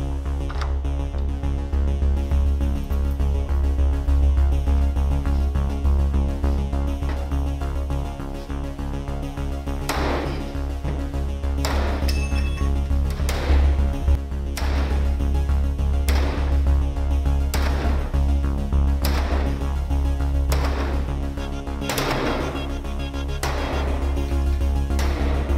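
Repeated sledgehammer strikes against a classroom door secured with a Nightlock lockdown device land as a series of sharp, heavy impacts at irregular intervals over a constant low mechanical hum.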